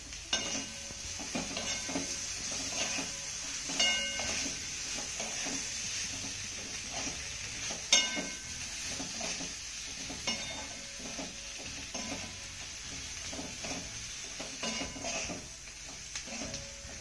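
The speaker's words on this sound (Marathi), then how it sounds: "हे सर्व साहित्य आपल्याला 2 ते 3 मिनिटं चांगलं परतून घ्यायचं आहे" Dough bowls made with dill, tossed with chopped coriander and sautéed in a pan: repeated close scrapes and metallic clinks of a spatula over a soft sizzle, continuing steadily with occasional sharper knocks.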